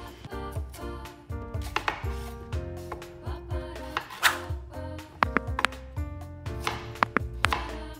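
Knife cutting a peeled potato into chunks on a board, a run of sharp, closely spaced thuds and taps, near and fairly quiet, with faint music behind.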